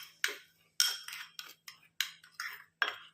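A spoon clinks and scrapes against a bowl while mixing face pack powder with milk, giving about seven quiet, separate strokes in an uneven rhythm, close by and with no voices.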